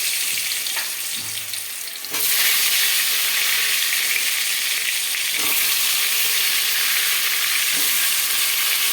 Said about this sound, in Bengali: তেলটা গরম হয়ে গেছে এবার আমি এক এক করে আলুগুলো দিয়ে দেবো তেলের মধ্যে